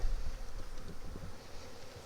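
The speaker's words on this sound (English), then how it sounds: "now I'm going to shake the bees off of all the honey there" Honey bees buzz in a dense, steady hum as they are shaken off honey frames during a hive inspection, close and continuous with no voices.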